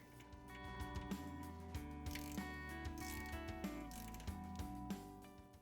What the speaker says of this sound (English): We're going to tighten this drain plug to 14 foot-pounds.